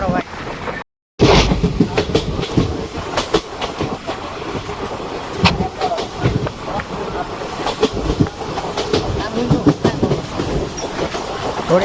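Pune Veraval Express passenger train (number 11088) running between Gondal and Jetalsar Junction, heard from inside as a loud continuous rumble with rhythmic clickety-clack of wheels over rail joints and a brief dropout early on, with people talking.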